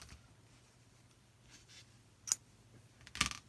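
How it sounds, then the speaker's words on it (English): Scissors snip a strand of yarn off a knitting loom, giving two crisp close cuts in an otherwise quiet room, the second sharper and louder than the first. "then we're going to cut this strand"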